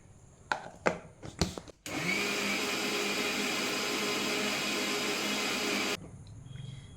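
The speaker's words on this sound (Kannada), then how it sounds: "ಹಾಗೆಯೇ ಸ್ವಲ್ಪ ನೀರು ಹಾಕಿ ಇದನ್ನು ನೈಸಾಗಿ ಗ್ರೈಂಡ್ ಮಾಡ್ತೇನೆ" A mixer grinder runs in one loud, steady burst lasting about four seconds as it grinds fish curry masala with water in its jar. A few sharp knocks and clatters come before it, and a quiet tail follows after it stops.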